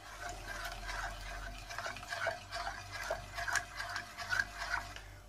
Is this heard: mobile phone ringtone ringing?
no